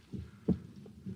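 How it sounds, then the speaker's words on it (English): A muffled heartbeat effect from a classic radio drama thumps low and close in a double-beat pattern, repeating a few times with nothing else heard. "for many minutes, the heart beat on with a muffled sound"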